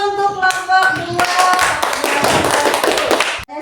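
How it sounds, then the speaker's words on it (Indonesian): A classroom group claps for the second student group after their presentation, with quick scattered hand claps that come in bursts, close and loud, then stop abruptly near the end. "Tepuk tangan dulu untuk kelompok 2"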